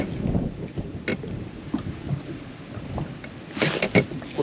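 Wind buffets a microphone aboard a fishing boat on open water, producing gusty, uneven rumbling with sporadic thumps and a sharper hiss near the end.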